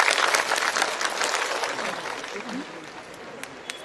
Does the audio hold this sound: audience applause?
yes